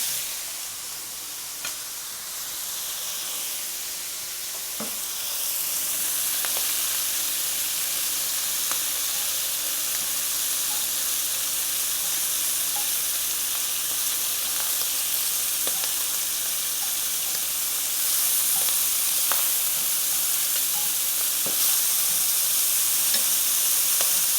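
Shrimp sizzle steadily in a hot pan, a constant loud hiss of frying with occasional small pops and clicks scattered throughout.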